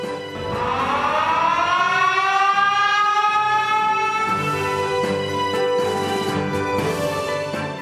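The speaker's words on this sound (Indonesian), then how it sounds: "Peresmian pabrik ini kemudian ditandai dengan penekanan tombol sirine oleh Presiden Joko Widodo." A factory inauguration siren, switched on by President Joko Widodo at a lithium-ion battery anode plant, winds up into a long, loud, steady wail that holds for several seconds with no talk over it.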